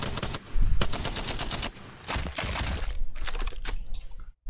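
Rapid bursts of gunfire from a weapon in the Apex Legends training area, loud sharp cracks in quick repeated volleys with brief pauses between strings of shots.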